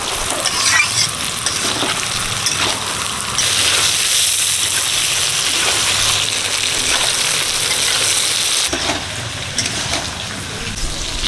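Brinjal slices fry in oil, a loud close sizzling hiss with spatula stirring scrapes throughout, the hiss swelling and then easing.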